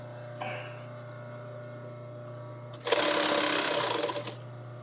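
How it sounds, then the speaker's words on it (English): A sewing machine stitching the long seams of a project gives a short rapid whirring burst of about a second and a half, loud and close over a steady low hum, with a faint brief whir just before. "backstitch that end"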